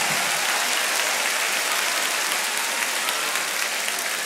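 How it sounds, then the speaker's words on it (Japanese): An audience at a Japanese MC rap battle event applauds the losing contestant, a dense, loud, continuous wash of clapping that fills the room from start to finish. "ギルに拍手を送ってください"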